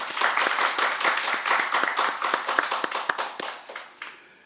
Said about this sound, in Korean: 우리 그 청년들 악기하고 또 찬양한 그분들을 위해서 우리 격려의 박수를 한번 치십시오